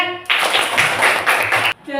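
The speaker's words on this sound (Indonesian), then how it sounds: "Beri tepuk tangan untuk Sambian." Students in a classroom break into a burst of brisk hand clapping lasting about a second and a half, loud and close, with voices just before and after.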